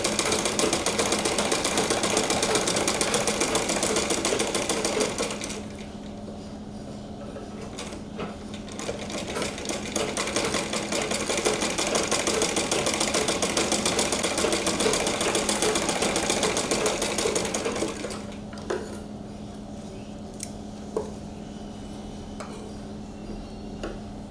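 A sewing machine stitches lace onto a sleeve with a fast, even mechanical whir. It runs in bursts, with a quieter pause early on and another lull toward the end.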